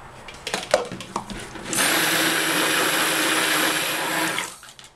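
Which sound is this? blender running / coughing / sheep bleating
blender running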